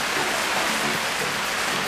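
Steady rain falling at a remote camp in Fiordland, a dense, even hiss with no pauses or voices.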